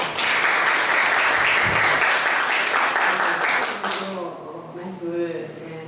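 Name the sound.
audience applause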